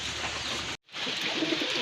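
Pigeons of the original Kagzi breed, a pure white pair, coo steadily at close range, the low throaty calls continuing on either side of a brief silent gap.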